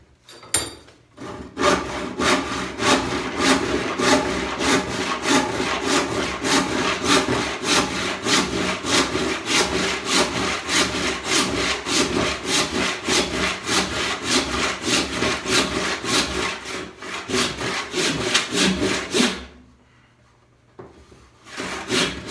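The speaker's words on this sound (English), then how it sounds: "Now that I've got a kerf established, I'm just going to do the overhand" Handsaw cutting through a wood slab with overhand strokes, a loud, steady rhythmic rasp of back-and-forth strokes lasting nearly twenty seconds before stopping abruptly.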